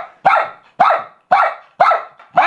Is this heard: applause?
no